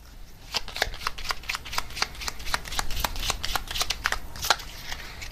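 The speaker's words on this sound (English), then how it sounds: "let's see what comes through the oracle cards for their thoughts about you" A deck of oracle cards is shuffled close up, giving a rapid series of crisp flicks and riffles lasting several seconds.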